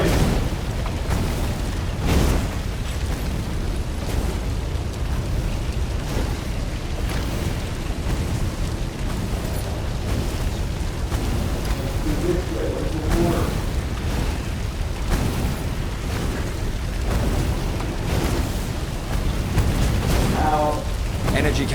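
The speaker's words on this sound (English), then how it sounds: "Energy cannons. The last argument of kings." Energy cannons firing and exploding in a video game, a continuous barrage of deep booms and bursts filling the whole stretch, loud and dense under intermittent talk.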